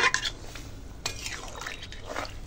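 Water poured into a pot of potatoes and pointed gourd, brief close splashes and drips with a light clink of metal, quiet with no voice.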